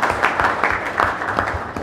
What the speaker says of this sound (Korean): 박수로 환영해 주시고요.